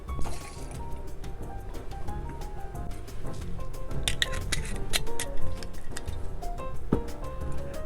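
Martinique rum poured into a cocktail mixing tin, a close continuous trickle and splash with small clinks and drips throughout.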